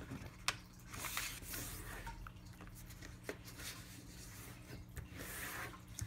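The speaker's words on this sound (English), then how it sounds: "first off you will start by folding diagonally from corner to corner" Paper folded diagonally from corner to corner for an origami balloon gives soft, faint rubbing and creasing rustles at close range, with no talk.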